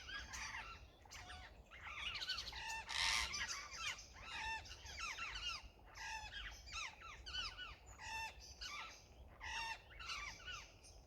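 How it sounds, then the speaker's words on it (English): Forest birds call repeatedly in a busy chorus of harsh, squawking honks, one bird after another, faint and heard from a distance with no talk. "I have to look up what these birds are actually called"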